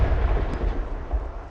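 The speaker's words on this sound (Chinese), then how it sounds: "像我都习惯搜寻子弹音效" Loud, booming gunfire-like sound effect used for bullets in an Unreal game project, a continuous rumbling blast with heavy low end and no pauses, heard alone without voices.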